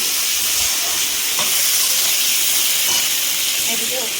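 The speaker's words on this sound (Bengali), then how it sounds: "পেঁয়াজ ভাজার পর টমেটো কুচি দিয়ে" Chopped tomato frying with onions in oil, a loud hissing sizzle with faint stirring scrapes underneath, steady throughout.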